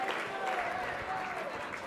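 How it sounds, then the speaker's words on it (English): Guests at a charity awards gala and fundraiser applaud a pair of donors, a brief wash of crowd clapping with voices and a cheer mixed in throughout. "big round of applause for Nicole and Bob Allard"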